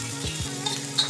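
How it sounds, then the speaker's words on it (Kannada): Onion and ginger frying in a pan, a steady sizzle with a couple of brief stirring scrapes and a small clink, close and fairly loud, no voices. "ಶುಂಠಿ ಹಾಕಿ ಸ್ವಲ್ಪ ಫ್ರೈ ಮಾಡಬೇಕು, ಈರುಳ್ಳಿ ಮತ್ತು ಶುಂಠಿನ"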